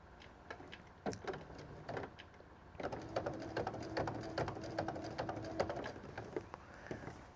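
A sewing machine stitches quilt binding about an eighth of an inch from the edge, a quiet rapid mechanical chatter that starts and stops in short bursts, then runs steadily at a slow pace.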